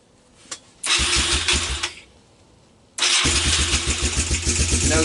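A four-wheeler ATV that sat for years, fitted with a cleaned carburetor and a new spark plug, cranks briefly, stops, then cranks again and catches into a steady, loud, close idle.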